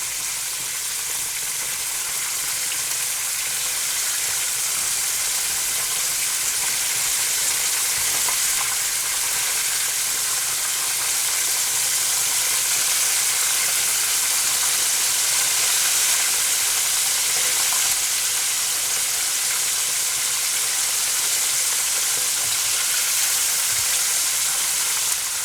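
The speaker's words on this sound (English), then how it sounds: "I'm just going to let this fry for 10 minutes" Chicken pieces fry in a pan for budget fried chicken, giving a long, steady sizzle with soft hissing and popping that holds at an even, close level throughout without any voices.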